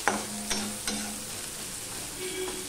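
Chopped onions with a pinch of salt sizzle and fry steadily in a pan for a Bengali sour dal and okra dish, with a few stirring scrapes and clicks over the continuous close hiss.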